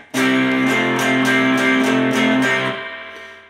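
An electric guitar strums the opening chord riff of a song, one loud ringing phrase of rhythmic chops close by that decays into a fading sustain.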